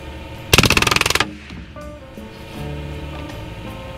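A Hatsan Blitz air rifle in .25 or .30 caliber fires a rapid full-auto burst of about a dozen evenly spaced loud cracks lasting under a second, close to the listener, followed by quieter outdoor background noise.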